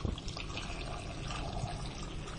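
Hot water poured over chopped potatoes in a cooking pan, a steady close splashing and trickling pour that runs continuously throughout at moderate level, with no talking.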